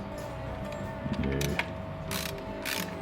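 A cut old bolt being run into Volvo 850 flywheel bolt holes to clean the threads, giving a close, steady metallic ratcheting and scraping with a few sharper clicks, alone without talk.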